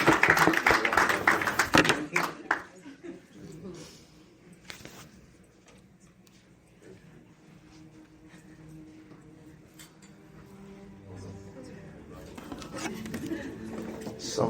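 Church congregation claps during a service, with a burst of close, dense clapping at the start that fades to scattered, quieter patter and murmuring, while a voice speaks over it.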